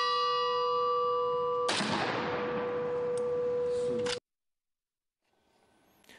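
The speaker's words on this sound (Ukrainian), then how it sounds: "Після кожного озвученого прізвища лунав дзвін, а салютна група робила залпи зі стрілецької зброї." Memorial ceremony bell rings with a sustained, shimmering tone, then a single sharp crack like a small-arms salute volley is followed by a decaying ring before sudden silence and a faint rustle.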